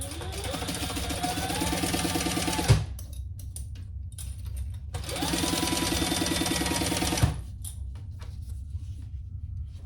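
Two long runs of a sewing machine basting a tote bag seam, a loud, close mechanical whir that stops abruptly each time with a clunk, leaving quiet gaps between.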